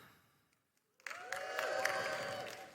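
Audience applause at a corporate event-tech partner summit breaks out suddenly after a quiet pause, then continues as dense, fairly distant clapping with music and voices underneath.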